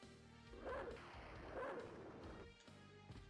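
Wolf-form bark power in Castlevania: Symphony of the Night, two short barking bursts with a harsh impact over continuous game music and ambience.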